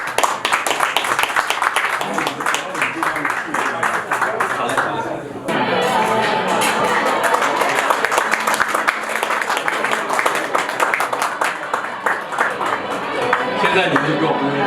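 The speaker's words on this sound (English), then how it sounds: "Just we clap your hands." Wedding guests clap as the bride enters a reception, a loud continuous wash of many hands with crowd chatter and people talking underneath, swelling briefly again partway through.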